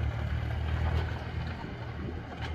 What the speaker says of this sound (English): we got Gabe trained on the tractor